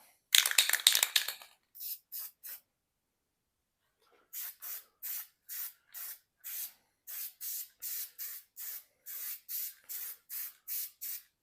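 Paint sprays onto a truck tailgate being repaired after a large dent: one long opening burst, then a steady run of short, evenly spaced hissing pulses, close and fairly quiet, with no voices.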